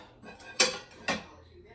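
Two sharp metallic clanks of pans being moved on a stovetop, close by and spaced about half a second apart, with quiet background noise.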